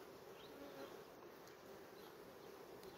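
Honey bees buzz around an opened hive, a soft continuous hum with individual bees droning past, faint and close.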